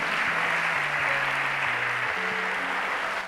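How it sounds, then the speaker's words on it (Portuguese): A church congregation claps together in a steady, sustained round of applause, with low held musical tones running underneath and no voices over it. "Dê uma salva de palmas ao Senhor."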